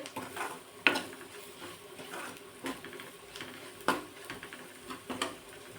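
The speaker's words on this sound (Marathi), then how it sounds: "आता ही भिजवलेली मटकी यामध्ये टाकून घेते" Soaked sprouted moth beans tipped into a hot tempering and stirred, giving soft scattered clinks and scraping strokes over a faint sizzle, fairly quiet and close, with no talk.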